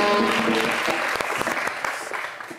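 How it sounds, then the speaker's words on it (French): Loud studio-audience applause on a live sports TV show covering an Africa Cup of Nations match, strong clapping that begins over a musical tone and continues steadily, tapering slightly at the end. "Oui, on les applaudit très fort."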